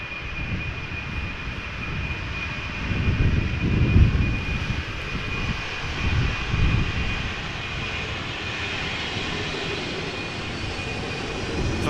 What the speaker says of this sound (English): Now the 737, the first 737 is coming this way,